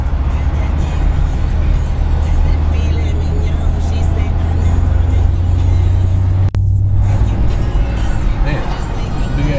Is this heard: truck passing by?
yes